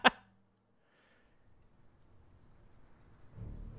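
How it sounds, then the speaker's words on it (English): Rain and thunder in the video game Dawn of War II: a sharp crack opens, then a soft, steady patter of rain builds and swells into a low rumble near the end, with no voices. "Oh no, rain."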